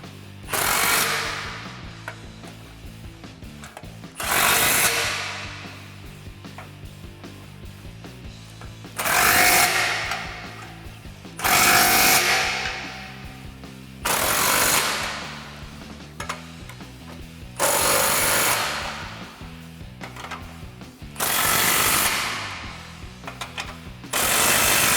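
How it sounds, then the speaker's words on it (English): A 15 mm socket on a power tool tightening the stainless steel cat-back exhaust clamps on a 2015-2017 Mustang GT, firing in about eight loud, brief bursts of rattling impacts separated by quiet pauses. "we can go ahead and tighten up all of our clamps using our 15 millimeter socket"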